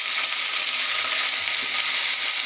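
Mustard greens fry in a pan with fried onion and garlic, a loud, continuous close-up sizzle with an even hiss and no voices.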